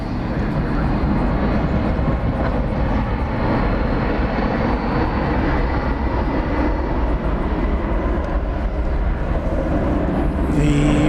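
Boeing 757 airliner at DFW Airport at night, a loud continuous engine roar and rumble that holds steady throughout at close range.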